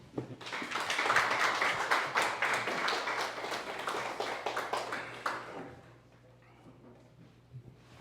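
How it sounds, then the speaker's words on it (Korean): Audience applause at a Korean Christian workplace lecture, a dense burst of clapping that swells quickly, holds steady for about five seconds, then fades into scattered claps with a low hum beneath. "큰 박수 부탁드립니다"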